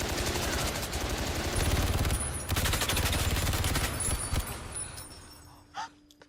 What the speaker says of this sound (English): a machine gun toting waiter takes it away